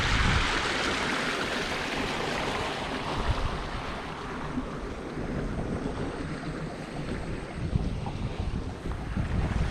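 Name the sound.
wind blowing into the microphone outdoors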